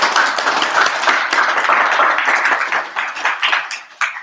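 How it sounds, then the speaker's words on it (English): An audience claps for a guest called up at a live event: dense, loud applause that holds steady and then thins out toward the end, with a few final isolated claps. "Let's give a round of applause for Big Dave here."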